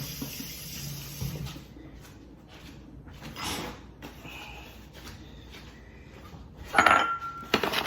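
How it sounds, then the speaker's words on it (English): Tap water runs into a kitchen sink while hands are rinsed, a soft intermittent splashing with brief clinks of dishes and a louder gush near the end. "Rinse off my hands."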